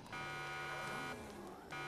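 Electronic alarm in a video game, a steady buzzing siren tone that sounds continuously and restarts near the end, fairly loud with no talk over it.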